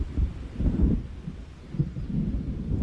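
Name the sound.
thunderstorm thunder in video game Alan Wake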